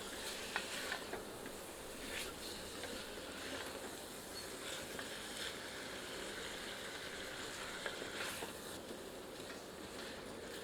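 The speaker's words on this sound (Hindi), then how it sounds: "अच्छे से मिलाते हैं ताकि सारी सामग्रियां मसालों के साथ अच्छे से मिल जाएं" Mutton with spices being stirred in a pan for Punjabi saag gosht, a steady sizzle and fry with occasional scrapes and knocks from the ladle, close and continuous.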